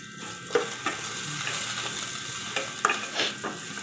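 Ginger frying with onions in a hot pan, a continuous bright sizzle broken by several sharp scraping stirs, close and fairly loud, no talking.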